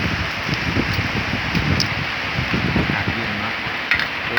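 Steady rain falls and patters in a continuous, loud hiss on a rural northeastern Thai outdoor cooking spot, with only faint scattered sounds mixed in.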